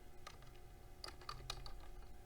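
Quick bursts of keystrokes on a computer keyboard, irregular clicks clustered in short runs over a steady low room hum, close and fairly quiet.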